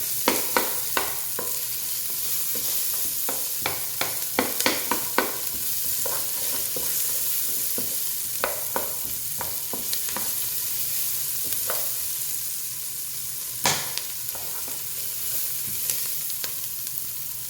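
Onions sizzle steadily in a hot pan while being stirred and broken up, with soft continuous frying hiss and frequent sharp scraping and tapping of the utensil against the pan, close and moderately quiet.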